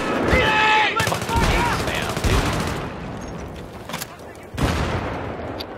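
Rapid gunfire in an online multiplayer shooter, bursts of automatic shots crackling in clusters, loud and close at first, then more scattered and distant before another burst, with players talking over it.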